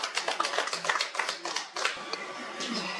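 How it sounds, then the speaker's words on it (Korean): Applause from an audience at a year-end 2025 poetry recital as a guest is introduced, a dense patter of hand claps with bursts and a slightly thinner tail. "힘찬 박수로 부탁드립니다"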